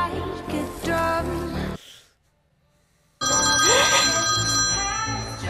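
Telephone ringing in a TV horror scene, a steady electronic ring heard loud and close, with a short silent gap partway through and dramatic scene sound around it.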